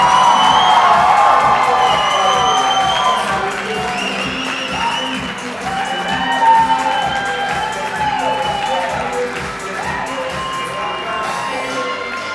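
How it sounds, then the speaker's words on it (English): Wedding reception guests cheer, whoop and applaud loudly as the newlywed couple is welcomed, a dense sustained crowd roar with shouts rising over steady clapping throughout. "One more big round of applause."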